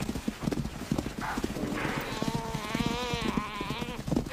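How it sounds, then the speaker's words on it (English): A topi antelope bleats in distress during a nighttime lion hunt: a wavering, strained cry rises and warbles for a couple of seconds over scuffling, thudding movement nearby. "The chaser can hear the desperate bleat of a topi"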